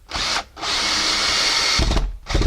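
Power drill whirs in short and long bursts, driving screws into cement backer board on a ceiling and wall, close and loud with brief pauses between runs.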